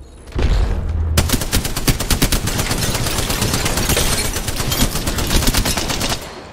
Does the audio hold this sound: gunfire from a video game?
yes